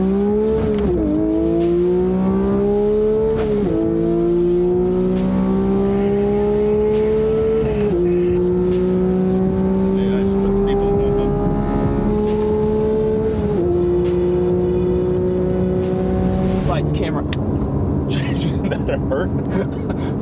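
Porsche 992 GT3 accelerating hard with traction control on, its engine loud and close as it climbs through several gears in a rising, stepped pattern, with brief dips at each upshift, while a voice speaks over it.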